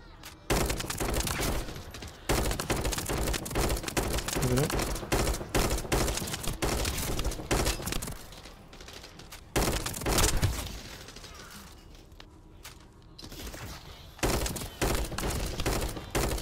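Rapid bursts of gunfire in the video game The First Descendant, loud and close, with rattling automatic volleys broken by brief pauses and quieter stretches.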